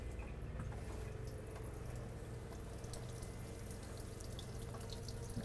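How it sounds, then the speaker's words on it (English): Hot water running steadily from an RV tap while the water pump works, a faint, continuous hiss of flow with a low mechanical hum beneath, close and with no talk. "I'm going to turn the hot water on so you can see how your continuous hot water works."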